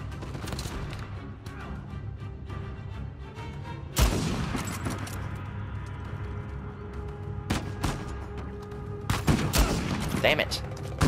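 Gunfire in the Uncharted 4 video game, scattered shots and sharp bursts over a steady background of game noise, with a couple of louder impacts near the middle and end.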